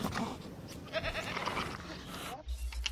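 Goat bleating inside the video game Jurassic World: Evolution, a few nasal cries rising over steady game ambience, with a voice talking over parts of it.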